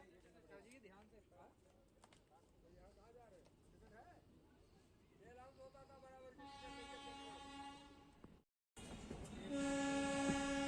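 Passenger train at an Indian railway station on the Mailani to Shahgarh route: a voice talks over station rumble at first, then loud, sustained horn blasts sound close by, briefly cut off and resuming stronger.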